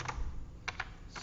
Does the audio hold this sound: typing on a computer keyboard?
yes